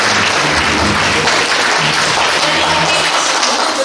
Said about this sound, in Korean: 6분의 발제자와 토론자분들께 다시 한번 박수 부탁드립니다